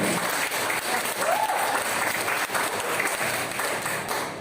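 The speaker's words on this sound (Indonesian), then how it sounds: "Tepuk tangan dulu dong buat tim Poco Indonesia" A crowd at a Poco phone community gathering in Indonesia applauds the Poco Indonesia team, steady dense clapping throughout with faint voices and cheering mixed in.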